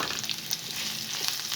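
Onion frying in oil with garlic paste makes a close, steady crackling sizzle with small pops for a couple of seconds, and no one speaks.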